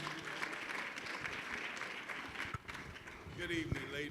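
Audience applause at an intellectual property award ceremony, continuous hall clapping at moderate level with a brief dip partway through and some voices mixed in.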